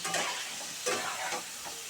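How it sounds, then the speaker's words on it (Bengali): Fish koftas frying in hot oil, a steady sizzle with a few louder bursts as they are turned in the pan. "ভালো করে একটু ভেজে নিই কফিগুলো"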